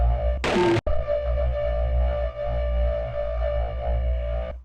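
A synthesized Wook bass patch built from sine waves drones low and steady with a buzzing harmonic tone, broken briefly near the start by a short burst of noisy, bright hash.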